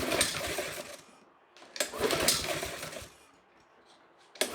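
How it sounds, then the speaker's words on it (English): Starter rope on a Honda lawn mower engine yanked repeatedly for a compression test: two sustained rasping, whirring pulls close to the mic, separated by quieter gaps, with a final short tug at the end. "First, I'll test compression."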